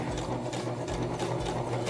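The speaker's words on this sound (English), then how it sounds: "in order to get it moving, I push with the pedal on my foot" A sewing machine driven by a foot pedal stitches in a steady, rapid mechanical whirr with a ticking needle rhythm, running continuously and close up with no talking.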